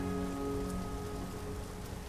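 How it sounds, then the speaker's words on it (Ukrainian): Rain falls steadily in a forest near Lake Synevyr, an even pattering hiss with close drops striking leaves and grass, no voices. "Тишу порушує цебеніння дощу, який напуває міріади трав, закликаючи до буяння"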